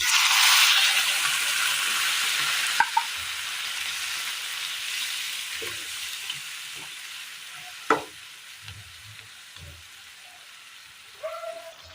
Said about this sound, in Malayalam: ഈ സമയം ഇതിലേക്ക് ഒരൽപ്പം ചൂടുവെള്ളം ഒഴിച്ചു കൊടുക്കാം.